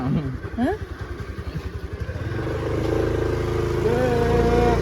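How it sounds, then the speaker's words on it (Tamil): A motorcycle engine struggles to pull, with a low chugging pulse at first that settles into a steady, labouring drone. Close, moderate in level, with brief voices near the start. "வண்டி இழுக்க மாட்டேங்குது"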